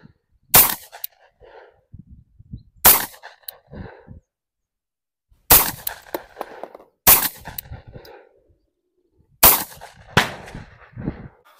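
A Tisas 1911 Carry 9mm pistol fires 124 grain Hornady XTP rounds outdoors, five sharp, loud shots spaced a few seconds apart, with quieter handling noises and brief murmurs between them.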